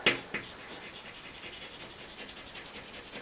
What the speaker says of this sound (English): we've really got to scrub the pastel right into those grooves